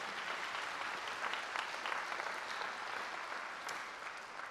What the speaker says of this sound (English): why don't you give these individuals a round of applause for supporting you.